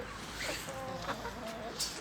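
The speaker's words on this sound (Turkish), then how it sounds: "Playmut tavuğumuzun birisi kaçtı dışarı." Chickens, including Plymouth Rock hens, cluck softly now and then against a steady outdoor background hiss, with a few short bird-like calls scattered through.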